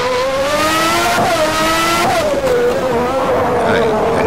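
A 1992 Formula 1 car in the Stock Car Extreme racing game steps out sideways under throttle, its high engine whine sliding and shifting pitch, with a faint tyre scrub beneath the loud, steady roar.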